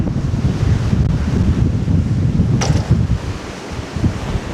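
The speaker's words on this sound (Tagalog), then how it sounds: "Isang hangin." Wind gusting at a seaside campsite in Malico, Pangasinan, buffeting the microphone with a steady low roar and a soft surf-like wash, loud and continuous with no voices.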